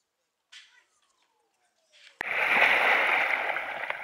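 Sea water washing against the shore below a high bank at Anapa on a calm day; after brief quiet, a loud, steady rushing splash starts suddenly and continues close by.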